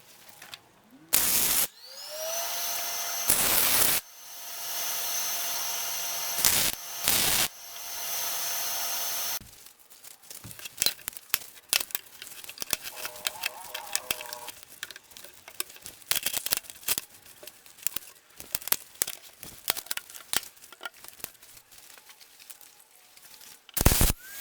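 Steel is cut and tack welded to fill a gap on a temporary rear lower control arm: whining bursts of a cutting tool first, then a long run of sharp, irregular crackling pops at close range.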